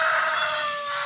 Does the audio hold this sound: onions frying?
no